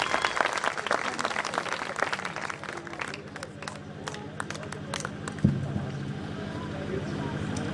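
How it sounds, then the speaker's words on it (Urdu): Audience applause for a guest speaker, Abdul Raheem Malik, at a motivational talk, steady scattered clapping from a room with a thump near the end and background murmur. "سر عبد الرحیم ملک کے لیے پلیز تالیاں"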